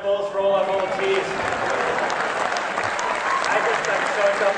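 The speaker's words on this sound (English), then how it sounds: "Round of applause for all our volunteers." An audience claps for volunteers at a motivational speaking event: a dense, steady wash of applause that stays even throughout, with a voice heard briefly at the start.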